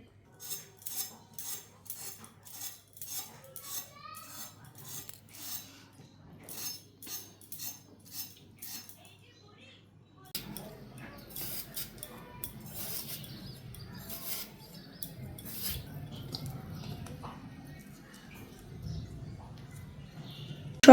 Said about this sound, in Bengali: এখন পটলগুলো কেটে নেব সব